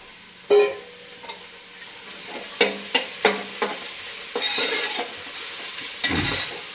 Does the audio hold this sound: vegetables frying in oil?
yes